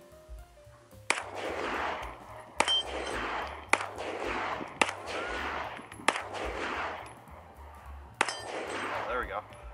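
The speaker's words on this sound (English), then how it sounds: "Let's go ahead and get some rounds on target." Six sharp, loud pistol shots from a Springfield Armory Echelon, fired one at a time at an outdoor range, each crack followed by a ringing echo and spaced about a second apart.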